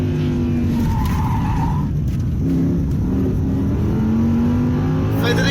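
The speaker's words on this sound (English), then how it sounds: "That engine revs like nothing I've ever seen." An Audi R8 V10 Plus engine screams up toward its red line under hard driving, the loud rev rising and falling as the throttle is feathered, with tire skid noise mixed in.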